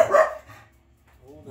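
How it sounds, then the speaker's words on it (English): Dogs barking at the bin men collecting rubbish, a short loud burst of barking at the start, then quieter yaps trailing off in the distance. "All the doggies are going after the bin men."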